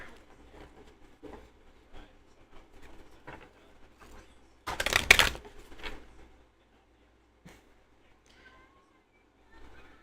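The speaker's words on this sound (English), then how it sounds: "Actually, let me shuffle this a little more." A deck of oracle cards gets shuffled in one short, crisp burst of riffling midway through, surrounded by quiet handling rustles in a still room.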